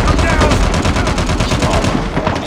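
Rapid gunfire in PUBG, loud close bursts of automatic shots hammering in a fast steady rhythm through the whole stretch, a voice briefly mixed in.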